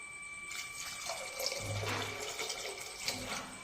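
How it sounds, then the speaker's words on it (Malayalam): Water pours and splashes into a cooking pot of sambar in a couple of short bursts, fairly close and moderately quiet. "ഇതിൽ കുറച്ച് വെള്ളം കൂടെ വേണം ഒഴിക്കാൻ പോവുകയാണ്"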